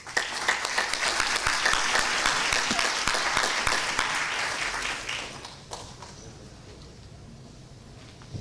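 A conference audience gives a full, dense round of applause to welcome a speaker, loud and sustained for about five seconds before fading out into room quiet.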